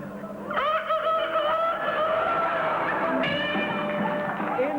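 At a talent show, a performer imitates a rooster crowing, holding a long, strained, rising-and-falling crow, then breaking into a second raised call, loud and close over faint room noise.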